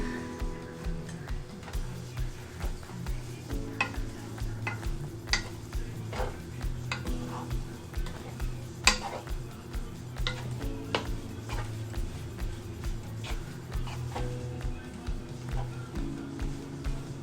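Pansit bihon rice noodles stirred in a pan, repeated clicking and scraping strokes of a utensil against metal in a steady rhythm over a low background hum, close and moderately loud.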